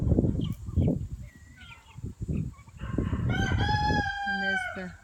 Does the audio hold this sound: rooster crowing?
yes